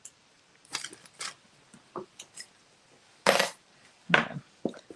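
Sticky tape being pulled and torn for a reindeer luminary card, in several short, close crackling bursts with quieter handling noises and pauses between them.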